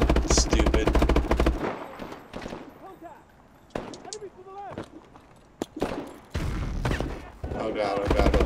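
Bursts of rapid automatic gunfire in a Call of Duty Advanced Warfare gunfight, loud volleys at the start and end with quieter shots between, while a player talks over it.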